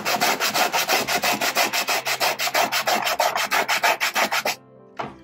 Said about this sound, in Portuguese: E ao friccionar ele contra a lixa, ele vai raspando.